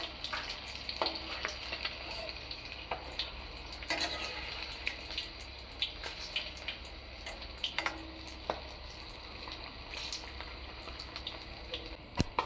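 Anchovies fry in oil after being turned over, a steady bubbling sizzle with frequent small ticks and pops and a few spatula scrapes, heard close with no voices.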